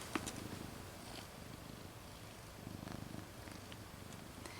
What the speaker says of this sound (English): He purrs like a motorboat.